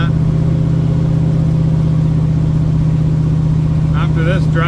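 A restored 1972 Ford Mustang Mach 1 engine running at close range, a loud steady idle rumble held throughout, with a person briefly speaking near the end.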